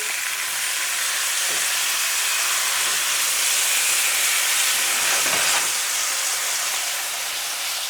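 A pot roast sears in a pan with a loud, continuous sizzle and hiss, close up, with a couple of faint knocks as the meat is flipped.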